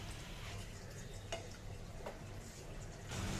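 Mutton brain gravy simmering in a pan while being stirred, a soft continuous bubbling hiss with a couple of light scrape-like clicks, quiet and close, no voices.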